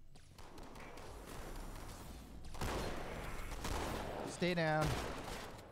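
Gunfire in the video game Halo 2 crackles through a dense, noisy battle mix, a steady barrage with heavier thumps midway and a brief electronic tone near the end, while a voice speaks over it.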